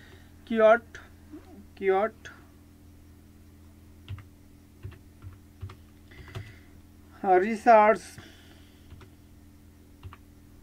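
Typing on a computer keyboard while doing keyword research, with light, scattered key clicks under a few short bursts of voice.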